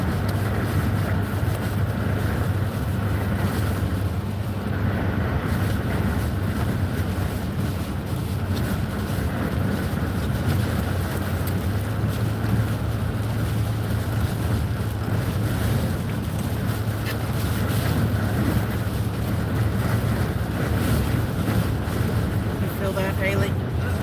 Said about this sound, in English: the wind's hitting it and making it shake